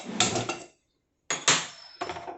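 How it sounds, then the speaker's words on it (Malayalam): A gas stove being lit in a home kitchen before cooking beef, with sharp clicking ignition bursts followed by a short hiss, repeated a few times with a pause between, close and moderately loud. "നമ്മൾ ഗ്യാസ് സ്റ്റൗ കത്തിക്കുന്നു."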